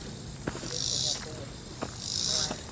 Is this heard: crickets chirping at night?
yes